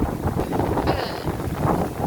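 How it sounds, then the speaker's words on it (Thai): Strong wind at Ban Krut beach in Prachuap Khiri Khan buffets the microphone in a steady low roar, with faint surf in the background and no voices. "เนียก็อยู่ตรงนี้ลมแรง"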